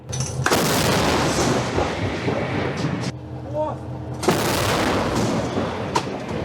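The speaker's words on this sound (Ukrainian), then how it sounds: "І ще один, і ще один снаряд 155-го калібру вилітає в бік окупантів" A 155mm artillery gun booms out in a couple of deep, loud blasts with rumbling echoes between them.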